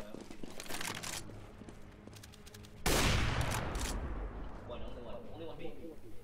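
Gunfire in the video game Counter-Strike: Global Offensive, rapid shots early on, then a sudden loud burst and a rumbling blast that fades, with players talking over it.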